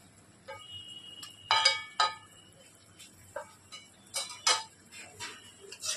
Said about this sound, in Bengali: এবার আমি ভালোভাবে মিশিয়ে নিচ্ছি